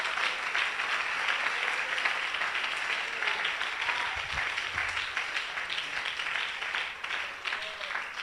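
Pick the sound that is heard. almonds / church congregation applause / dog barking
church congregation applause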